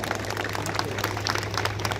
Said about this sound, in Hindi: जरा एक बार उनका ताली बजाकर आप सब अभिनंदन करें, स्वागत करें।